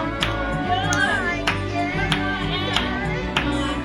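At a keyboard workshop, hands clap sharply to a count, six crisp, evenly spaced claps about half a second apart, ringing over sustained keyboard tones and nearby children's voices.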